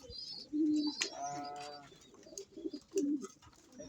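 Inside a loft of breeder pigeons, a few distinct low coos sound close by with pauses between them, a bright chirping call rising in the middle.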